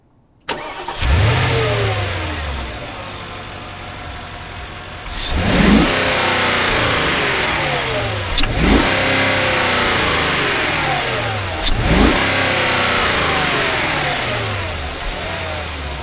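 Revving 4.8-liter V8 in a 2013 Porsche Cayenne GTS, heard close from the engine bay: it starts, then rises in three loud, sweeping revs, each dropping back to a steady rumbling idle, with no voices.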